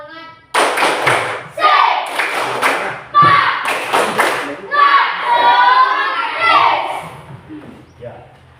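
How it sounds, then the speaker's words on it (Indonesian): A classroom group of children does a tepuk semangat clapping chant, with loud bursts of rhythmic claps and thumps alternating with energetic shouted chanting, repeated in several rounds close by. "Kita ice breaking dulu dengan tepuk semangat."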